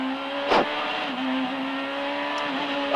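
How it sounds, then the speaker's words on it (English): A Renault Super 1600 rally car drives a Madeira rally stage, its engine droning steadily with shifting pitch, punctuated by a brief loud burst and small sharp transients, loud and close throughout with no talking. "This is a Super 1600 car."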